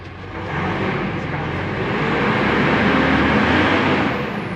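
Mitsubishi Montero 4x4 with a hard-starting fault and check engine light, its engine running after starting, a steady broadband rumble that swells and holds, close by, with people talking over it.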